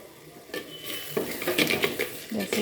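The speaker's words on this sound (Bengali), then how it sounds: "আস্তে আস্তে মশলাটা কষিয়ে নিচ্ছি। তেল ছেড়ে আসছে আস্তে আস্তে, দেখুন" Masala spices cooked down slowly in oil in a pan over low gas flame, a spoon scraping and clinking against the metal in irregular strokes with a faint sizzle underneath, close and moderately loud.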